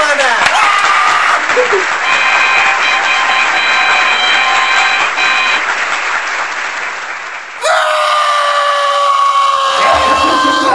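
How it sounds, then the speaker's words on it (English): Studio audience applause greets a guest on a live TV talk show, loud and sustained clapping with crowd noise under a tonal hum, then a sharp shift to brighter, harsher crowd sound near the end. "let's give a big round of applause for our next guest, Agatha"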